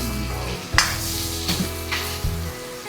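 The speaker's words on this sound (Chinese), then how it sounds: "豆角放进去以后，我们把它多炒一会儿" Green beans stir-fry in a pan with onion and Sichuan peppercorns, giving a steady close sizzle broken by several scraping stirs of the spatula.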